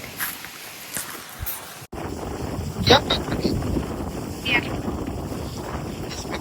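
Gusty wind buffets the microphone in a steady, rumbling roar, with faint voices underneath.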